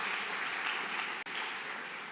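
A church congregation applauds during a sermon. The clapping is steady and diffuse, fills the room at moderate loudness and breaks off for a moment partway through.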